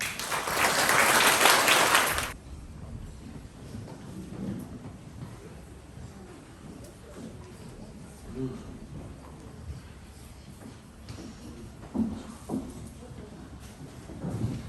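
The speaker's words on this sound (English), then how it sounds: "Can we give these two students another big clap?" A loud burst of clapping at a primary school presentation day for award-winning students lasts about two seconds and then stops abruptly. A quiet hall with faint shuffling and murmurs follows.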